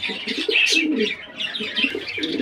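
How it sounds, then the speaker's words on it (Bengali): A pair of Sirajee pigeons at a pigeon farm, giving close, loud throaty coos in repeated rolling phrases, with brief higher chirps mixed in. "তারপর এখানে দেখতে পাচ্ছেন একজোড়া সিরাজি কবুতর"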